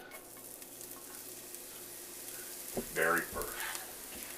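Garlic hitting hot oil in a frying pan, a soft steady sizzle with a brief clatter of stirring near the end, heard faintly beneath a few spoken words.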